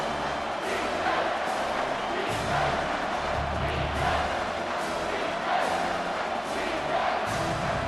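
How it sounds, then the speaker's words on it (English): A stadium crowd roars steadily and loudly in College Football 25 during a South Carolina Gamecocks vs Georgia Bulldogs rivalry game on third down, a dense continuous wall of cheering that swells in waves throughout. "Decibels rising as the crowd gets behind this defense on third down."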